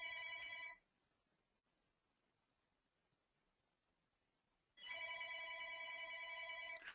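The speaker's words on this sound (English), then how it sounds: "We're going to let my phone ring." A mobile phone rings in an indoor setting during a portrait photography talk, a bright electronic ringtone sounding in two loud bursts separated by several seconds of near silence.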